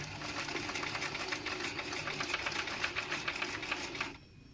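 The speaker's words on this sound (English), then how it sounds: "sewing machine tutorial for how to sew a square" A sewing machine stitches a straight line of fabric in a fast, even mechanical rattle, close and steady, then stops abruptly near the end.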